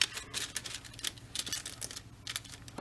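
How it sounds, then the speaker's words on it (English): A stapler clamps shut a paper pack of magic reindeer food, making a run of sharp, close, dry clicks and snaps against faint background hiss, with no talking. "I'm just going to staple it for right now to hold it closed"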